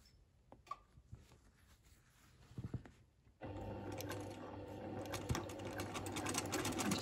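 Domestic sewing machine doing free-motion quilting, filling a grid on a quilt block; a few quiet handling clicks give way to a steady, close running whir that continues evenly to the end.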